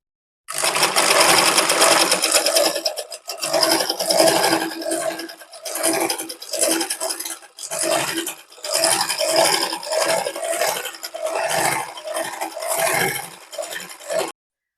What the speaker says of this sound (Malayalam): ഇനി നമുക്ക് ഈ ലീഫുകളെല്ലാം സ്റ്റിച്ച് ചെയ്തെടുക്കാവേ